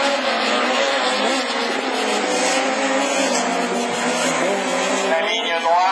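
Super 1600 rallycross cars, including a Renault Twingo, racing around a track in a French championship heat, engines roaring continuously and loudly while a commentator talks over them.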